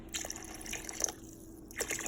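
Water poured into a pot of beans being cooked the Caribbean way, a few faint trickling splashes with short pauses between them, close and quiet.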